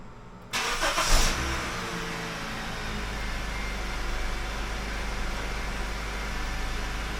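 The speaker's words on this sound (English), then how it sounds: "Now I'm going to remote start the car." A Honda Civic engine, a 2012 to 2015 model, starts by remote start with a brief cranking burst and then settles into a steady, fairly quiet idle hum; no one speaks.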